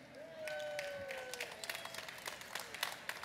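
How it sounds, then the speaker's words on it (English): An audience at ZestFest, a food festival event, claps in a brief round of applause, with crowd noise and a few whistles ringing over it. "Can we get a round of applause?"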